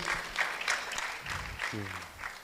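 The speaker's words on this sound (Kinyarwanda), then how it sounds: "Dukomere Imana amashyi" Audience applause bursts out at a gathering where a married couple shares their testimony, a steady wash of clapping with a short voice breaking through near the end.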